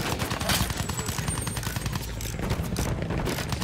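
Rapid gunfire in the game Battlefield 1, coming from behind the player: a dense, continuous rattle of automatic shots and bursts that stays loud and busy throughout, with no clear talk over it.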